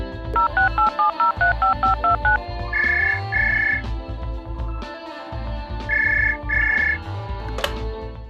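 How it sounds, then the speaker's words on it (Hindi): A telephone sound effect: a quick run of electronic dialing tones followed by two pairs of repeated ringback buzzes, loud and clean over a low rhythmic music bed. "अपने लड़के को फोन मिलाता है।"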